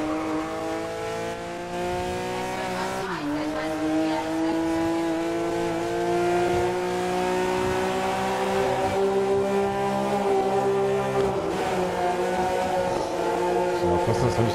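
A Porsche race car engine in the racing game GRID during a night event, a loud continuous rising whine as it accelerates, with a brief drop around a gear change, heard up close.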